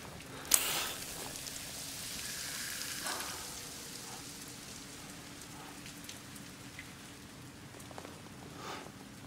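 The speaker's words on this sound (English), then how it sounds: "There's some kind of like bad rain or something that can kill a man." Rain in the video game Death Stranding falls steadily with a soft, even patter, fairly quiet, with a few scattered drips and one brief sharp knock near the start.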